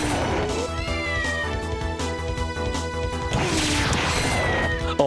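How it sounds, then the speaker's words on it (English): A cat meows in a Metroidvania video game, with a few short mewing calls laid over dense, steady game music and some sharp hits, all fairly loud. "Oh, also a cat up there."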